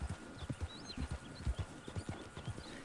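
A horse's hooves clip-clop in the Red Dead Redemption 2 video game: a fairly quiet, steady trotting rhythm of distinct hoofbeats, with no other sounds over it.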